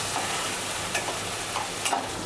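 Ginger garlic paste frying in hot oil in a pan, a steady close sizzle with faint stirring scrapes throughout.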